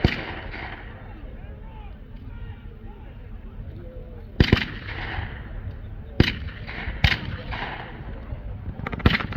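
Blank gunfire from a fire team laying down base fire at a wartime reenactment open house: several sharp, loud single shots spaced irregularly over steady crowd chatter and background talk.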